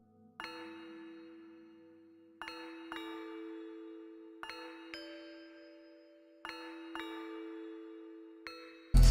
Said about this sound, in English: I just used like a glockenspiel that I found